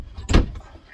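A closet door in a 1986 EMC Starfire 310 motor home opens with a single short thud-like bump and rattle, close by, followed by faint room noise.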